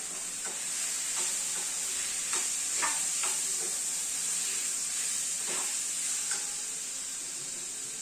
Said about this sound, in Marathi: आणि आता आपला हा बॉईल केलेला बटाटा, हे छान असं आता मी परतून घेते